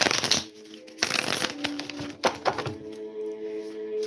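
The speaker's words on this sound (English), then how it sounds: "I'm going to shuffle again." Tarot cards shuffled by hand during a reading, in short papery bursts of riffling and sliding, three clusters close to the microphone with quieter pauses and a low background hum between them.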